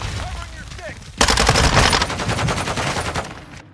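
Rapid automatic gunfire from a weapon in Call of Duty: Modern Warfare 2 opens suddenly after a quieter stretch of game sound and continues as a loud, sustained burst of shots.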